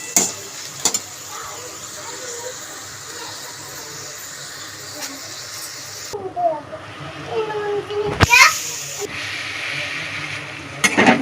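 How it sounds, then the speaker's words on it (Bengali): Vegetables fry in oil in a pan, with turmeric added, while semolina pulao is cooked. A steady close sizzle runs throughout, broken by a few sharper clatters and bursts as the mixture is stirred. "সবজিটা ভাজতে ভাজতে দিয়ে দিলাম অল্প করে হলুদ"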